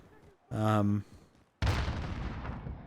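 A grenade goes off in the Call of Duty video game, a sudden loud boom with a rumbling decay following a short burst of game voice or tone, close and dominant.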